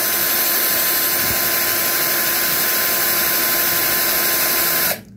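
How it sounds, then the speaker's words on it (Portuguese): A slightly dull drill bit bores out a broken aluminum pin from a shoe heel, giving a steady, loud, continuous whine that runs without pause and cuts off abruptly near the end, with no voices over it. "a broca vai desgastando e aí o furinho vai ficando limpo"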